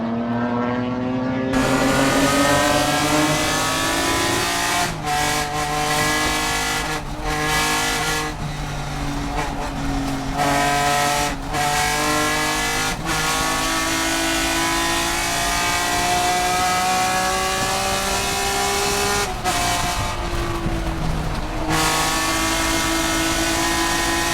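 Race cars in the Touring 1 class at the SCCA Runoffs, a Corvette among them, accelerate hard out of the carousel, with loud sustained engine howl, rising pitch through gear changes and brief lift-off dips, close and continuous.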